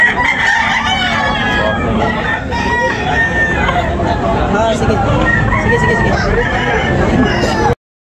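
A rooster at a chicken market in Tabunok, Talisay crows loudly and close, with clucking fowl and a background crowd babble around it.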